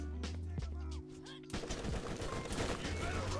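Rapid gunfire in the game Borderlands breaks out midway as a dense, loud burst of shots. Softer game sounds and tones come before it.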